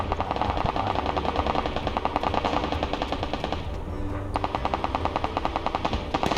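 Rapid automatic gunfire in the video game PUBG Lite rattles on in dense, steady bursts throughout, loud and close, with a brief dip in intensity midway.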